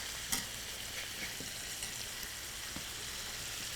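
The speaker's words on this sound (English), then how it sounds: "I'm cooking the chicken right now, browning it" Chicken pieces brown in a frying pan with a soft, steady sizzle, broken by a few faint clicks of stirring.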